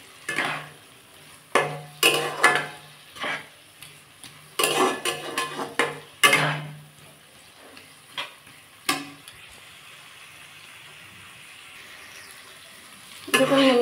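Pea ghugni masala being stir-fried in a kadai, with a soft sizzle under repeated scraping and clinking of a spatula against the metal pan in irregular bursts, then a quieter stretch.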